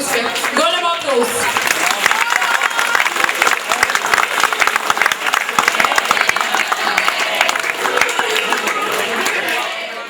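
Sustained, loud clapping from a concert crowd at a folk dance ensemble's 40th jubilee celebration, near and continuous throughout, with some tonal sounds over it early on before it tapers slightly at the end.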